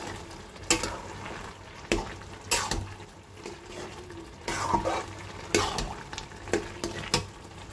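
A spoon scrapes and stirs through a spinach batter with fried lentil dumplings, giving regular scraping strokes about once a second with a soft wet sizzle in between, close and moderately loud.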